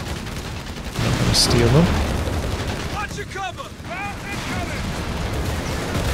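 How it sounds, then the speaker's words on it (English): Artillery fire in Company of Heroes 3 rumbles in the background of a 4v4 battle on Monte Cavo, with muffled booms and a sharp crack early on beneath a voice talking, plus chirping whistles. "There is some artillery coming down, though."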